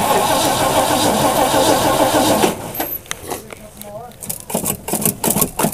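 A big, rough Ford Bronco engine cranks and catches on a cold start, loud and close for a few seconds, then settles into an uneven idle as people talk over it.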